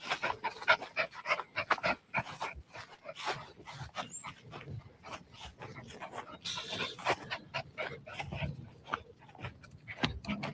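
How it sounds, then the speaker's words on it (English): A dog pants rapidly and repeatedly up close, with quick rhythmic breaths, small snorts and a faint whimper now and then, and no talking over it. "What a good puppy dog."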